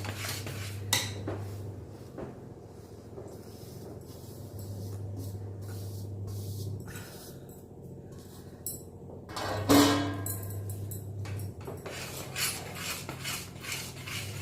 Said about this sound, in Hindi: चलाते जाइए जिससे कि इसकी गांठें ना पड़े